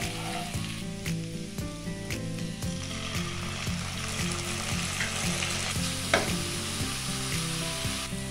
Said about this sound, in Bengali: এরপর পোস্ত বাটার মিশ্রণটি দিচ্ছি